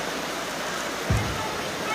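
Heavy rain pours down in a steady, dense hiss for the whole stretch, with a brief low thump partway through.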